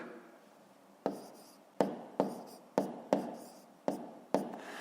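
Pen or chalk writing numbers by hand during a fifth-grade arithmetic exercise, heard as six or seven short scratchy strokes in quick bursts, close and fairly quiet, with no talking.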